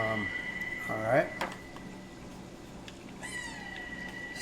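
A house cat lets out a couple of short meows near the start, rising and falling, followed by quieter background noise and a faint later sound as someone talks.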